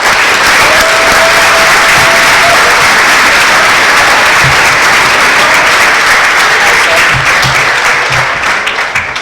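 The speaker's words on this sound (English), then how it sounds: "Let's give Ryan Clark a big round of applause." A big room of listeners at a breakfast speaker event gives a loud, sustained round of applause, a dense continuous roar of clapping that stays strong throughout.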